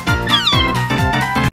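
A cat meowing in a SpongeBob parody: a few loud, close meows with drawn-out, sliding pitch in quick succession, heard alone.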